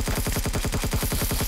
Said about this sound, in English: I'm gonna have to start using assault rifle